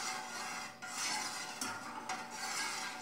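A spoon stirs pudding mixture in a pan in a steady, continuous scraping rhythm, with soft rubbing strokes close by and no talk.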